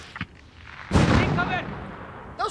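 Gunfire from the Call of Duty: Modern Warfare Highway of Death mission: a single loud, booming blast that rolls off slowly, with voices talking before and after it.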